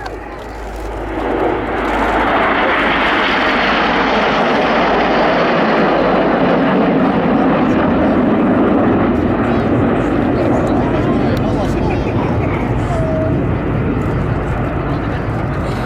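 Phoenix flies past at the RAF 100 Cosford Air Show in 2018, a loud sustained aircraft roar that swells in the first two seconds and holds steady. Crowd and commentary voices can be heard under it.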